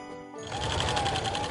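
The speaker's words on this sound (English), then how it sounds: "But I just like coming home and sewing." A sewing machine starts up after a brief quiet moment and runs at a steady, rapid stitching rhythm, close and moderately loud, with no talking.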